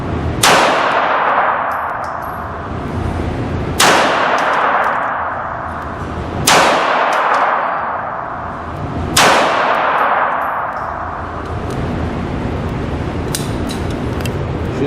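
Four loud gunshots from a Sears SS16 ring out about three seconds apart, each followed by a long fading metallic ring as rounds strike a metal target outdoors, with no talking.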